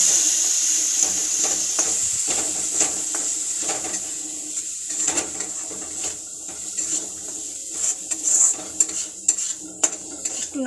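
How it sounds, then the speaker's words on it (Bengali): Spices cooking down in a pan with a little water, scraped and stirred steadily for an egg devil masala, metal utensil clinks and scrapes repeating over a soft continuous hiss and gentle sizzle, close and moderately loud, no talking. "এবার এতে সামান্য একটু জল দিয়ে এটাকে ভালো করে কষে নেব।"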